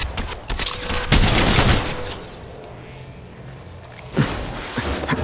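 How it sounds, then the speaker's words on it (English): Video game gunfire: a dense burst of rapid shots up front, then a quieter lull before another short volley near the end. "Shots fired and they're hitting me."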